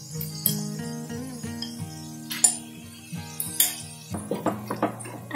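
Mashed boiled potato going into a pan of cooked spice masala, heard as a spoon scraping and clinking against the pan with soft stirring and a light sizzle, while music plays underneath.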